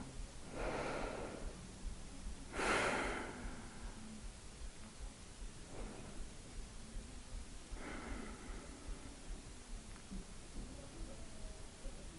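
Slow, soft breathing during gentle standing abdominal yoga, with a few quiet, airy breaths spaced several seconds apart against a faint hiss in a calm room.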